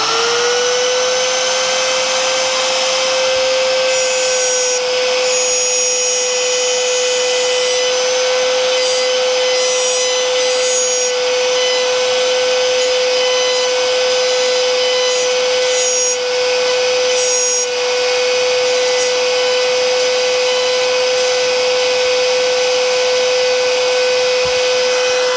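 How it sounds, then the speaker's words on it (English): A router cuts into wood while a large 52-inch wooden sawblade is being made, a steady, loud, high motor whine running continuously and close with little variation. "it's safer to let the router stop before you pull it up out"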